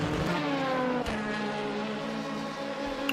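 Ferrari, Corvette and Aston Martin race cars battling on track produce a steady, moderately distant engine drone with held harmonic tones and a slight pitch shift, with no speech over it.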